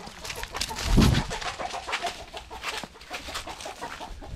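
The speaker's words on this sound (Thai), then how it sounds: "ขบเป็นหมาที่ไม่ยุ่งกับไก่นะฮะ" Chickens clucking around a farmyard, with a louder burst of clucks near the start followed by scattered softer clucks and bird calls at moderate distance, no speech.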